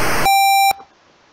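A 1-bit noise channel in a chiptune music tracker sounds one short, loud electronic burst: a harsh noisy hit that turns into a steady high beep tone, cut off abruptly after about half a second with no talk.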